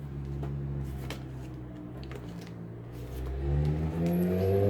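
Motorcycles and scooters pass along a street outside an open window, a low engine rumble that grows louder and rises in pitch toward the end as one draws near, with no talk over it.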